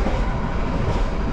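Inside the bathroom of an executive class train travelling from Surabaya to Yogyakarta in Indonesia, a loud, steady rumble and rushing roar of the moving train fills the space without a break.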